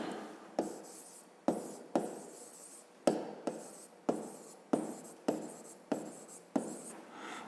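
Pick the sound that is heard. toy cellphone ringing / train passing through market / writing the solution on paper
writing the solution on paper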